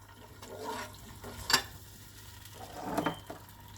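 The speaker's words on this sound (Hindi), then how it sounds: "इन सबको मिला के अच्छी तरह से मिक्स कर लें" Spices being stirred into spinach and potatoes for saag aloo, soft scraping and sizzling strokes in a pan with a couple of sharper scrapes, fairly quiet and close.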